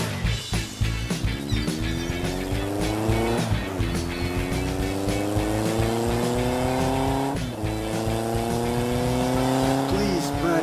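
Cartoon sports car and other vehicles racing through a city, loud revving engines with rising pitch sweeps as gears shift, continuous and close, over a steady musical or rumbling bed.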